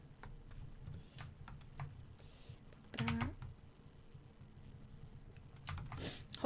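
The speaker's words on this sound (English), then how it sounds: "sorry if my keyboard's kind of loud" Computer keyboard typing comes through as scattered clicky keystrokes and short bursts, close but fairly quiet, with a few louder clusters of key presses.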